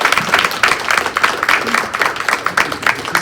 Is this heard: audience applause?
yes